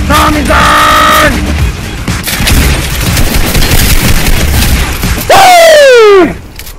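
Tommy gun bursts in Fortnite, loud rapid automatic fire in sustained stretches, mixed with tonal game sound effects and a sweeping chime near the end.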